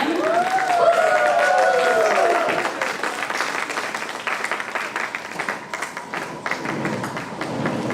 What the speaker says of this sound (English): let's give one round of applause again for Team Revenge